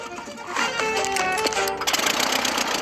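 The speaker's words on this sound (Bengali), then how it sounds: "এর আওয়াজটা লন মুভার ইঞ্জিনের মতো কেন?" The engine of a very cheap small plane drones steadily and loudly with a rattling, buzzy, lawn-mower-like tone, its pitch shifting slightly as it runs; no voices.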